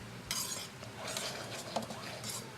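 A velouté being whisked with light, airy swishing bursts and faint clinks against the pot, close and quiet, coming in short uneven strokes.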